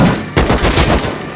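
Loud, close AK rifle fire in the video game Rust. A short automatic burst of rapid shots rattles for about a second.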